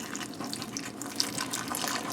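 Water trickles steadily and slowly into a tortilla dough mix of flour and salt, a close, continuous splashing pour with no talking.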